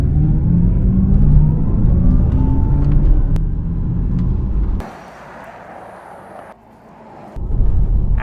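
Audi e-tron GT electric grand tourer launching hard in dynamic mode with launch control and overboost, a loud steady rising drivetrain rumble and whine that gives way to a quieter stretch before swelling again.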